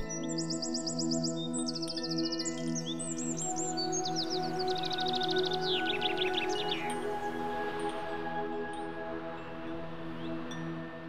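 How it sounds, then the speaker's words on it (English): Robins, wrens and chaffinches sing their spring song on the Lerchenberg, bright trilling phrases and repeated chirps tumbling one after another over a steady low hum, fading toward the end. "The robins, wrens and chaffinches begin their spring concert."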